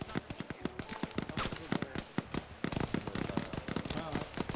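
Gunfire in a military video game, with rapid, sharp cracks and short bursts in quick succession, some near and some distant, under occasional talk.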